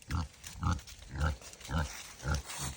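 Pigs on a farm grunt repeatedly while being fed apples, about five rhythmic low grunts close by, with no talk.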